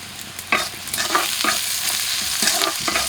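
Onion, chili, garlic and dried chili fry in a pan with a close, crackling sizzle, broken by several sharp scraping stirs of a spatula, no voices.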